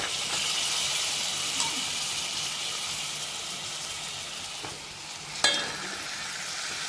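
Peas, potato and drumstick go into a pan of masala and fry with an even, hissing sizzle, broken late by one sharp clatter as the vegetables are tipped in or stirred.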